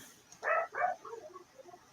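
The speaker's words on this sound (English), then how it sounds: "Whose dog is that?" A dog gives two quick barks followed by a few softer, fading yips, fairly close and alone with no voices over it.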